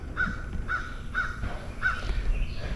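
A crow caws four times in a steady series of harsh calls, moderately close and clear over a low outdoor rumble, with no talk.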